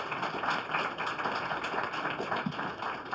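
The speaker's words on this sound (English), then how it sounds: "Give him a round of applause." An audience applauds a recipient of the 2017 Goldziher Prize for journalists. The clapping is moderate and continuous, with a steady hum underneath.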